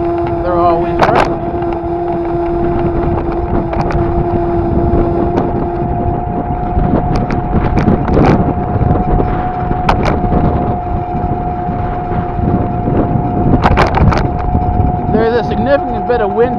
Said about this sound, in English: Significant bit of wind out today